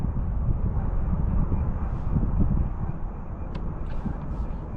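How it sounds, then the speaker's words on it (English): Wind blowing over a small boat on open water, a steady low rumbling buffet against the microphone that swells and eases, with a few faint higher ticks, no talk. "The wind is blowing me sideways"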